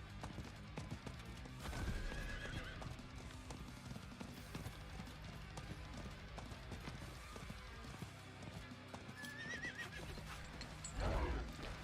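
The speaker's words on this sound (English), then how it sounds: "We'll get on our horse named Horse." Hooves clip-clop steadily beneath a game's background music, with a horse neighing at the start and again near the end.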